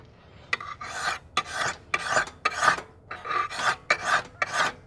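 A hand file works a steel knife blade bevel, producing repeated rasping strokes, about eight or nine even pushes in a steady rhythm, close and loud with brief pauses between strokes and no talking.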